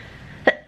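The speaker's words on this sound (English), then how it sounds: "Still have a cough." Two quick, close coughs in a row after a moment of near silence.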